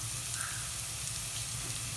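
Onions with salt and green chilies sautéing in a pan, a steady soft sizzle and crackle with a faint watery hiss, continuous and close with no talking.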